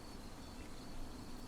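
Cicadas chirping at night in summer, a steady faint buzzing drone that continues without break through the whole stretch, with no other sound standing out.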